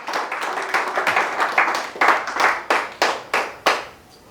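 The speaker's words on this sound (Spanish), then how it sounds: "Dele un aplauso al Señor Jesucristo" A church congregation claps together in a nearby burst of applause, starting as a dense patter and thinning into separate loud, rhythmic claps toward the end.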